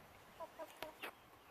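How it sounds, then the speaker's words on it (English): A cuckoo Marans rooster makes several short clucking calls spaced about a fifth of a second apart, faint and fairly close against a quiet outdoor background. "there's my big cuckoo Moran rooster"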